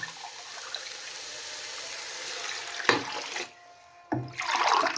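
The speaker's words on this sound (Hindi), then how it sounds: "और अभी जो है हम पानी ऐड कर देंगे।" Water poured into a pot of fish head soup being made at home, a steady splashing pour that pauses briefly and then resumes loudly for a second stream.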